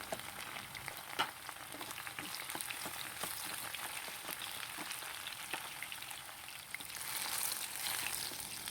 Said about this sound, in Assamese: আলু ভাজা তেলতে মই বেঙেনাখিনি ভাজি ল'ম।